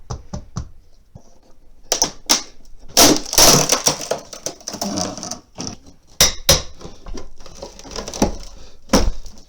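Old plaster in the hallway of a 1905 cottage is pried off the wooden boards behind it, giving loud, close, irregular cracks, splintering snaps and crumbling debris in uneven bursts.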